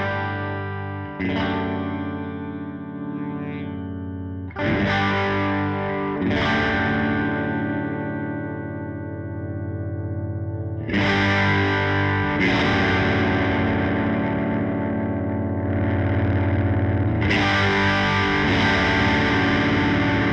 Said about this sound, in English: as you can hear, it is a beautifully balanced overdrive